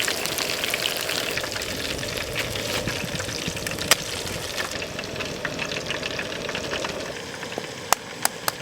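Battered squid crackles and sizzles steadily in hot oil outdoors at a camp stove, a dense continuous fry with scattered sharper pops and a few louder spits near the end.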